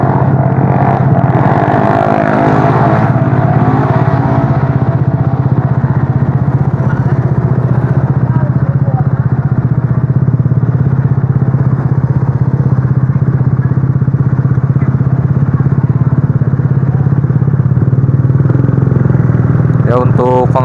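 Motorcycle engine with a cheap aftermarket exhaust idling and revving, a loud continuous low rumble with throaty pulses close by throughout, a voice talking over it.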